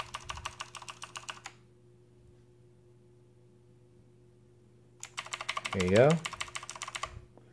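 Key presses on a UtechSmart Mercury RGB mechanical gaming keyboard with a metal frame: a burst of rapid clicky taps, a long pause, then another run of taps. A voice briefly speaks over the second burst, and a steady low hum sits underneath throughout.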